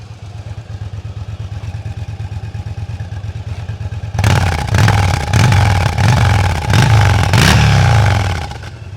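A Yamaha Drag Star 1100 motorcycle engine idles steadily, then revs up sharply several times in rhythmic surges, loud and close.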